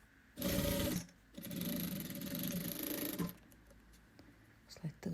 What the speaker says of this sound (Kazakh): Сол жерден тігіс жүргізетін боламыз.